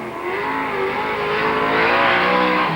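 A modified race car at full throttle as it crosses the start-finish line, a loud, sustained engine roar with a rising pitch that builds steadily through the pass.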